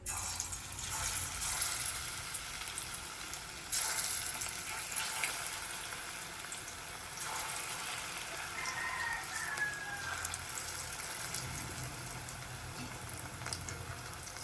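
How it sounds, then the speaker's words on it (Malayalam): Chicken frying in hot oil in an iron pan, a steady broadband crackle and sizzle running continuously at moderate loudness, with no voices over it. "ഓയിലൊക്കെ ചൂടായിട്ടുണ്ട് അപ്പോൾ ചിക്കൻ തട്ട് കൊടുക്കും"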